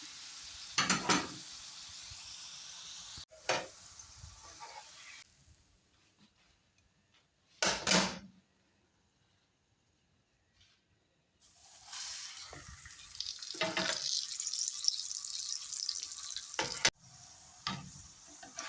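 A corn tortilla sizzles and fries in hot oil in a skillet, with bursts of crackling spitting and quieter gaps between them, heard up close and with no voices.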